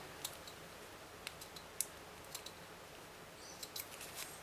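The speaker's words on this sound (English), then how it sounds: "pull out the threads, and then just give them a snip" Scissors snip loose sewing threads after buttons are sewn on by machine, giving sparse, faint, crisp clicks scattered over several seconds in a quiet room.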